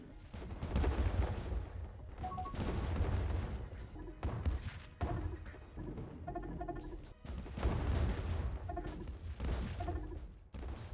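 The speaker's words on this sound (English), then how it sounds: "And you are going to bombard the heck out of this planet." A planet under orbital bombardment in the space strategy game Distant Worlds 2, with dense rumbling booms and rolling explosions in sustained waves, plus small pinging interface tones, loud and continuous.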